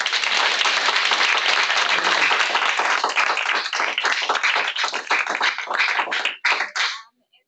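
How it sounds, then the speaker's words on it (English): An audience applauds after a talk on canine detection in wildlife trafficking, a dense burst of clapping that holds steady and then thins to scattered claps before stopping, with a voice briefly heard. "I thank everyone for participating and applaud Will."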